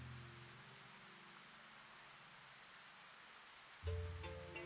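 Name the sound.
rain falling in the video game Rune Factory: Guardians of Azuma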